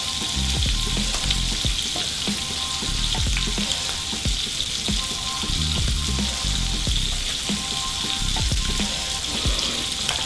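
Shrimp oreganata sizzles steadily in a hot pan, a dense, even crackle of frying with occasional soft stirring knocks, close and continuous for the whole stretch.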